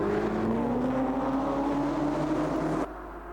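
GTE and GT4 race cars launch at the start of a race at Monza, a dense, loud roar of several engines with rising revs that drops suddenly near the end.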